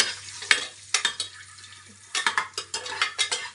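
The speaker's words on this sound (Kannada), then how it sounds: "ಇದನ್ನ ಒಂಚೂರು ಫ್ರೈ ಮಾಡ್ಕೋಬೇಕು" Eggs fry in a pan with a quiet sizzle, broken by several sharp scraping strokes and clinks of a spatula stirring against the metal, with no talking.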